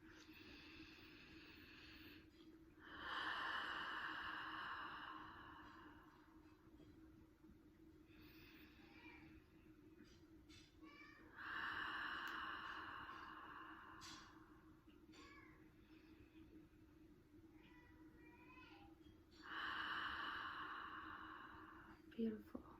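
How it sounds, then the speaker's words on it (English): Three slow, deep inhalations during a guided spiritual session, evenly spaced several seconds apart, close and breathy against quiet room tone. "I'm gonna have us just take a 3 deep breaths in before we get started here"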